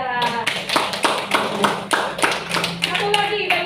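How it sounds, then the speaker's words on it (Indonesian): A classroom group claps in quick, even unison, a run of sharp rhythmic hand claps with voices mixed in. "Ya baik, tepuk tangan untuk Diara."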